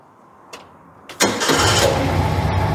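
An air-cooled VW Beetle engine in a Beetle tuning shop cranks briefly after a couple of clicks, then catches and settles into a loud, steady, close-up idle before carburetor adjustment.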